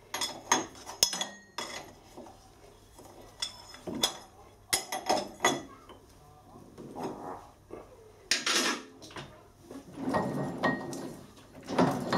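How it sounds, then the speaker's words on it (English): Lathe change gears rattling and clattering during screw cutting of a left-hand internal Acme thread, irregular metallic clinks and knocks in uneven bursts, fairly close and moderate in level. "see the gears working there. They're all rattling and clattering about"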